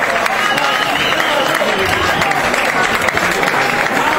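An audience applauds at a military band concert for the bicentenary of the Carabinieri, steady dense clapping filling the whole stretch without pause.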